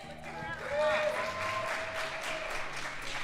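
Audience applause for author Britt Bennett at a Bushwick Book Club mainstage music event, a steady wash of clapping from a crowd that carries on for several seconds, with a musical tone and voices mixed in underneath.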